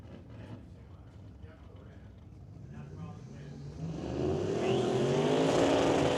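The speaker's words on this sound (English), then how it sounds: "we're going to take another crack at the burnout" A drag race car at a Doorwarz eliminations event roars into a burnout, engine rising and building into a loud sustained howl with tire noise over the last seconds, while a commentator talks over it.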